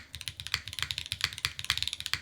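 Typing on the Lila 60% mechanical keyboard with Cherry-type alpha switches and an Obscura spacebar, soft, rapid clacks in a steady, close burst with no talking.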